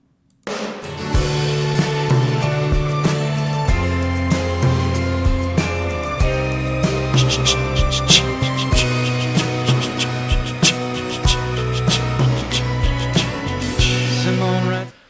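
Busy orchestral music with a steady driving rhythm and bright, high violin lines; a light shaker ticks quietly in the background.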